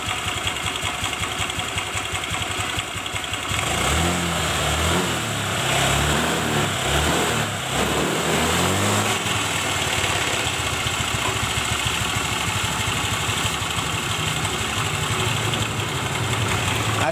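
A small carbureted Honda Vario Techno scooter engine with high fuel consumption idles, then revs up and down several times through the middle before settling back to a steady idle, close and loud.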